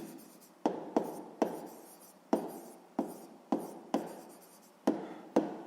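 A pen writes in a notebook during a sixth-grade maths exercise, about ten short scratchy strokes in an uneven rhythm, each with a crisp start, close and quiet with no speech.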